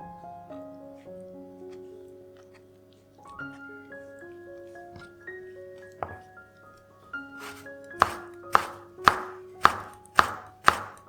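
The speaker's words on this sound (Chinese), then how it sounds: "取出泡发后的海带，卷起来切丝，放到碗里备用。" A knife slicing rolled, soaked kelp into thin strips on a board for a cold vegetarian dish; soft music plays, then about seven sharp, evenly spaced chops land near the end.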